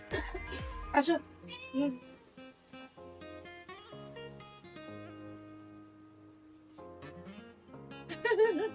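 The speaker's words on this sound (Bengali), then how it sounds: "আমাদের পাশের বাসের বিড়াল রেস্কিউ চলছে" A neighbour's cat meows repeatedly during a rescue in Bangladesh, with several cries set against steady tonal background sound and a louder burst near the end.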